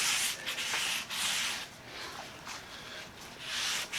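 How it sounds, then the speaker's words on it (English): Sandpaper rubs by hand over the outside lip of a steel Jeep factory wheel rim where it meets the tire, a soft, gritty scratching in repeated back-and-forth strokes, near and fairly quiet. "now what I'm doing with the sandpaper is I'm coming in here and I'm trying to get this outside"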